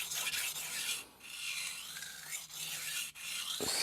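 A Tsunehisa 165mm kitchen knife is stroked across a 1000 grit sintered whetstone, giving a steady close-up wet rasp in several long sweeps with brief pauses between strokes.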